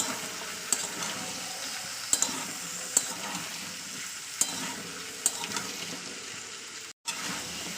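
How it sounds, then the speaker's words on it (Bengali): Potato pieces sautéing in a pan with spinach, chickpeas and peas: a steady soft sizzle, broken every second or so by sharp scrapes and clicks of a spoon stirring, with a brief dropout near the end. "তো এটা একটু আমি দু মিনিট কষিয়ে নেবো একটু"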